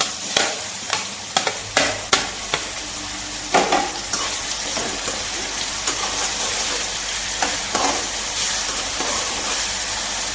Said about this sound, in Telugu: ముక్కలన్నీ బాగా వేగిన దాకా ఇలాగే వేపుతూ ఉన్నామండి గరిటె పెట్టి తిప్పుతూ ఉన్నాం